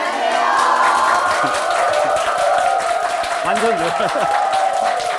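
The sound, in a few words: audience applauding and cheering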